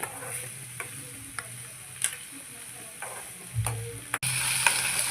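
Green chillies, onion and coriander being stirred in oil: light, regularly spaced spatula taps and scrapes over a gentle sizzle, close and fairly quiet, with no voices.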